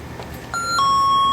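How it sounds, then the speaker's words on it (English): A motion-sensor remote alarm under test gives a short electronic chime, a couple of clear tones rising over faint background noise. The chime is brief and moderately loud, and nobody talks. "we're gonna test our motion sensor remote"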